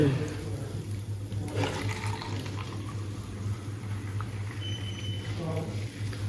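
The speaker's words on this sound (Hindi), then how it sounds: "बोतल पहले गिलासों में डाल लेते हैं" Cold drink poured from a bottle into glasses at a burger eatery, a continuous gurgling, fizzing pour over a steady low hum, with people talking nearby.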